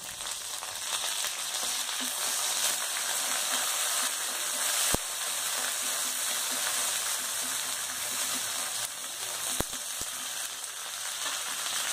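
Curry leaves frying in oil in a pan for a spicy garlic chutney, a loud steady sizzle and hiss lasting throughout, with two brief sharp clicks.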